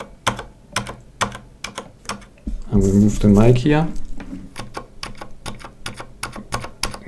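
Crisp, rapid keystrokes on a Corsair Strafe keyboard with Cherry switches ring out close up as a steady run of clicks, pausing while someone speaks briefly in the middle, then resuming.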